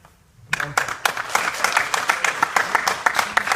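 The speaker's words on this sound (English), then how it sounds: "you guys can clap" Audience at a House of Delegates candidate forum breaks into clapping after a brief quiet moment, an irregular patter of many hands that builds and continues steadily, moderately loud in a room.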